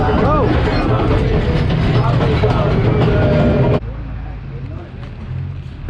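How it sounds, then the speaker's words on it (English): Loud rumble and rattle at the train station in Hatton, Sri Lanka, a heavy continuous drone that drops abruptly to a quieter background partway through, with a voice speaking over it. "We're in Hatton, here at the train station."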